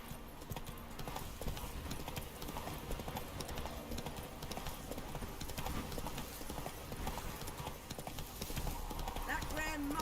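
Hooves of Roach, a horse in the video game The Witcher 3: Wild Hunt, pound in a steady galloping clip-clop throughout, loud and close, layered over game music and ambience.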